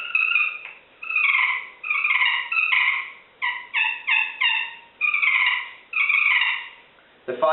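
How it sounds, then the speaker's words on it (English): Feeding purr on a friction turkey call worked with a wooden striker: a series of short, rolling, raspy trills broken into separate bursts, loud and close, with no talking. "Let's see what the feeding purr sounds like."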